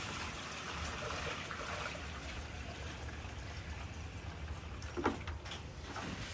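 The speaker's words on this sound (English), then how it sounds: "And he's adding the water to it now." Water is poured into a chicken coop waterer, a steady trickling, splashing stream running throughout at moderate distance, with a brief clunk near the end.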